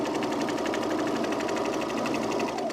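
A sewing machine runs steadily while stitching the bodice of a Sydney dress, a fast, even mechanical whirr with a regular needle rhythm that holds loud and close throughout.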